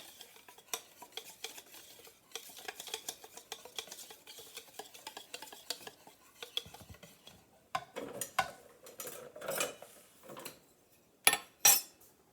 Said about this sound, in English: Let's get that whisked up pretty smooth.